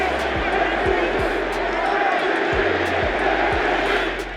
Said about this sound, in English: You hear the MVP chant.